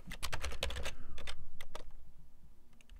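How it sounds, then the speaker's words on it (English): Code typed on a computer keyboard, a quick run of close, crisp key clicks that pauses, then continues in a few short bursts before fading out. "We type in the map"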